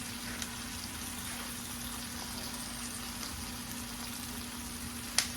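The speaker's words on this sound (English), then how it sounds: "Okay, so now I'm going to put a little bit of water in it." Water added to a hot pan of frying liver and onions, giving a constant soft sizzling and bubbling hiss at close range, steady throughout with a small clink near the end and no talking.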